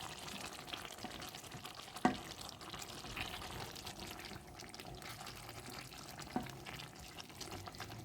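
Steady sizzling and clattering of mixed vegetables, baby potatoes and fenugreek leaves being stirred in a pot, with a couple of sharper scrapes of a spoon against the metal.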